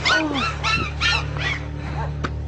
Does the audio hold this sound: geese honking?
no